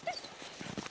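Beagle whimpering during a snowshoe hare hunt outdoors in winter, a short high-pitched whine near the start followed by faint shuffling and a brief yip, fairly quiet and close.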